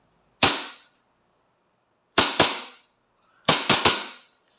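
A WE Tech Hi Capa 2011 I-Rex airsoft pistol fired semi-automatic gives sharp, close pops in three groups of one, two and three shots, separated by silence.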